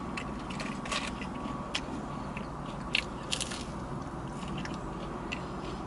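Close, steady chewing and biting of McDonald's food such as fries and chicken nuggets during a mukbang, with small crunchy bites and a few louder clicks over a continuous low mouth noise.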